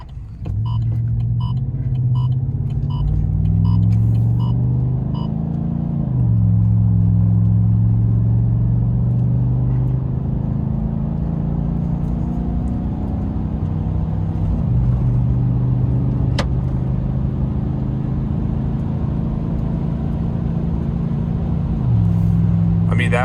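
A 2019 Chevrolet Silverado accelerates onto a freeway at half throttle, its engine droning low and rising in steps as the gears shift, with steady road rumble heard from inside the cab.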